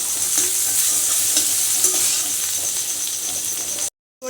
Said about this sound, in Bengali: এই গ্রেট করা আদা রসুনটাই দেবো এবার ভালো করে আমি কষতে থাকবো